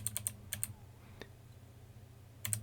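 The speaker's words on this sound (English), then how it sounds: "Using my arrow keys on my keyboard" Arrow keys on a computer keyboard tapped close by: a quick cluster of soft plastic clicks, a brief pause with a single faint click, then a final short burst of taps against quiet room noise.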